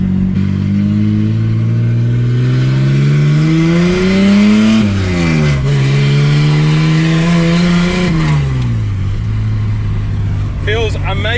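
A Ford AU Falcon drift car engine revs hard and loud, pitch climbing through several gear pulls with brief drops at the shifts, very close and harsh, with an exhaust crackle near the end.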